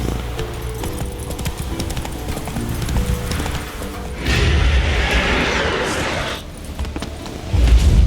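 A horse gallops in The Witcher 3 with quick rhythmic hoofbeats over game music, swelling into a louder rushing burst midway before the hooves return.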